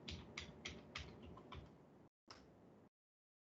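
Computer keyboard keys tapped in a quick run of sharp clicks, then a brief pause and one more click before silence, close and clear with no talking.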